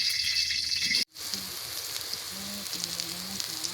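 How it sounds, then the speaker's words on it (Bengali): Banana flower fritters dropped into hot oil hiss and sizzle loudly and steadily, broken by a brief cut about a second in before the frying resumes, with faint low tones beneath. "তো এখন আমি একটা একটা করে বড়া ভাজবো।"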